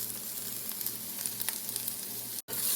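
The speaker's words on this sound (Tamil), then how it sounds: "சேர்த்து கலந்து வெங்காயத்தை வதங்க விடுவோம்." Sliced onions sizzle steadily in a hot pan with salt, chilli flakes and turmeric for an okra stir-fry, a dense, even frying hiss with a brief break near the end.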